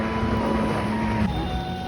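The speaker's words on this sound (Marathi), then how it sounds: "आता रायडिंग बघा तुम्ही, बोट रायडिंग बघा" A motorboat carries riders across the water at a night resort show, its engine a steady continuous drone with a strong low tonal hum and wind rushing over the microphone throughout.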